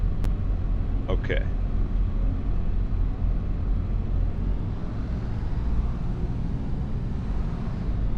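A new tractor's engine is heard running with a steady, low rumble that stays constant throughout. A brief voice is heard early on over it.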